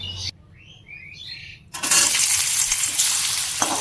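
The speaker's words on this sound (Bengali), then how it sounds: "দেখুন তেল গরম হয়ে গেছে, এবার এর মধ্যে আমি অল্প আলু ভেজে নেব।" A small batch of potatoes drops into hot oil and erupts into a loud, steady sizzle of frying close to the pan, after a quieter moment with faint chirping in the background.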